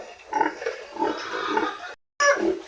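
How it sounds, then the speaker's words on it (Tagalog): A native pig grunts in several close, rough bursts, with a short silent gap before the final grunt. "native pig."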